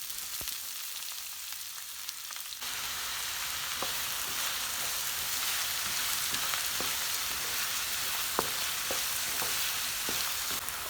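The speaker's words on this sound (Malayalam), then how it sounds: "ഇനി ആ ഓയിലിൽ തന്നെ 4 സവാള ചെറിയ ചെറിയ പീസാക്കി കട്ട് ചെയ്തത് ഇട്ട് കൊടുത്ത്" Chopped onions sautéing in hot oil for a Mughalai chicken, a steady close sizzle with scattered crackles and pops throughout, no voices.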